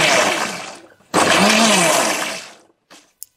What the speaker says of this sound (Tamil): இப்போ இதை வந்து அரைச்சி எடுத்துடலாம்.